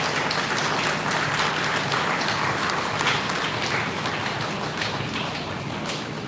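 Audience applause at a Bhoomi Pooja ceremony, a steady, dense wash of many hands clapping that fills the whole stretch at even strength, with no voices over it.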